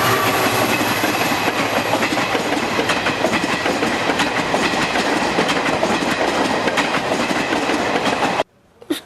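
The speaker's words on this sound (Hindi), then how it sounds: "हर रात ऐसा लगता था कि ट्रेन हमके ऊपर से चली जाएगी।" A train rolls past near a railway station, loud and close, with steady clattering wheels and rumble throughout, cutting off abruptly at the end.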